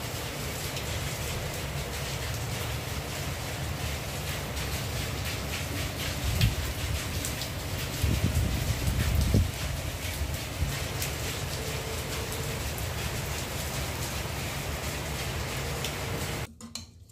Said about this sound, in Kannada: ಹೊರಗಡೆ ಬಂದು ನೋಡಿದ್ರೆ ತುಂಬ ಜೋರಾಗಿ ಮಳೆ ಬರ್ತಾಯಿತ್ತು